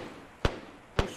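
Three sharp, close gunshots ring out in an Arma 3 Antistasi airbase attack. The first is alone, and the last two follow each other quickly after a short pause over quiet background.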